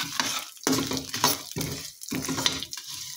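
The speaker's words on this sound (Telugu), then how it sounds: "నువ్వులు కూడా వేయించుకోవాలండి." Sesame seeds and peanuts dry-roasting in a pan, stirred in repeated bursts of rattling, scraping crackle with short gaps between strokes, close and moderately loud with no talking.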